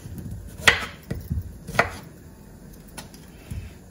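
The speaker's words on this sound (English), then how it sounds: "Just going to peel and chop up a couple of carrots." A knife chops peeled carrots into circles on a board for a winter vegetable sabzi, a few sharp, close thuds spaced irregularly with quiet gaps between.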